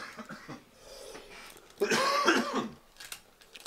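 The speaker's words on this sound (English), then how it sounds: "gotta cough a little bit on that." A person coughs a few times close by, with a harsh burst in the middle, followed by breathy exhales and throat noises.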